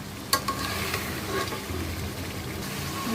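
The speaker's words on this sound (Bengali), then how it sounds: "কালিয়ার মাছ কিন্তু লাল করে ভাজা ভাজা করতে হবে" Rohu fish frying in oil for kalia makes a constant close sizzle with soft crackles and a couple of sharp utensil taps near the start, steady throughout and without speech.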